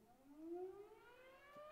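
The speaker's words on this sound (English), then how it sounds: "The damn sirens." A siren in a Roblox game sounds at low volume, a rising, wavering wail that climbs in pitch and sustains briefly with no voices over it.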